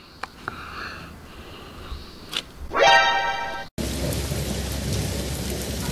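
A few clicks and a short electronic chirp from a toy rain cloud, then a steady rain-like hiss with low rumble starts abruptly and continues to the end.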